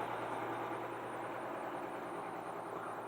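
A crane truck's engine idles steadily at close range, a constant low rumble with a rough mechanical texture and no voices over it.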